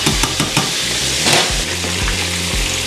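Pork chops for smothered pork chops with brown gravy frying in a pan, loud, close and continuous sizzling with occasional stirring and scraping clatter, no talk.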